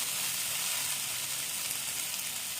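Yellow peas dal being sautéed with spices in a pan for ghugni: a soft, steady hiss of gentle sizzling, faint and continuous, with no voices.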